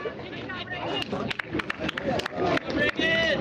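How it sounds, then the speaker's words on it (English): Crowd at a high school varsity softball playoff game at St. David High School: a murmur of voices and scattered shouts mixed with sharp clacks and thumps, with nearby talk running throughout. "you can hear the crowd here at St. David High School"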